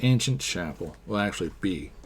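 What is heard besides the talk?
No distinct noise like a dog, phone or traffic.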